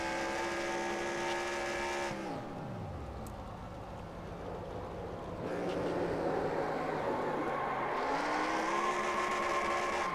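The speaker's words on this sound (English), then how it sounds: "Now listen to the engine of the 4 car." A race car engine in a sim racing game replay at Phoenix holds a steady high drone, then drops sharply in pitch as the engine cuts, idles low, and climbs back up to full revs.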